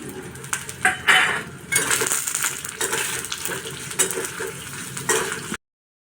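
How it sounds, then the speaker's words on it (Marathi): Dry and fresh coconut fry in spice masala for a chicken curry, with close stirring scrapes and clinks against the pan over a steady sizzle. "आता मी सुकं खोबरं टाकते ओलं खोबरं टाकते"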